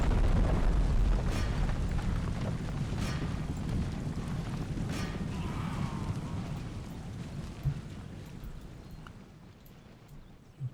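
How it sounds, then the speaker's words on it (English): Cannon fire and explosions in a large Empire: Total War battle, heavy continuous rumbling booms with sharp bursts near the start and around four to five seconds, fading toward a quieter rumble with a final thump. "Guns are wreaking havoc in here"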